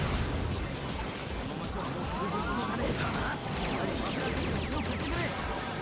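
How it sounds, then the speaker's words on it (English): A bomb blows up in Shadow the Hedgehog during a dark-mission level, a loud crashing burst inside a dense, constant wash of game effects and music with mechanical clatter. "Blow up that second bomb."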